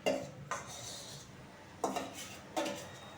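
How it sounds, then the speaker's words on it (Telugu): Sweet dough for festival prasadam being stirred in a metal pan, a few distinct scraping, clanking strokes of a spoon against the pan with quiet gaps in between, close and fairly soft. "ఇప్పుడు దగ్గరగా వచ్చిన దాకా కలపాలి."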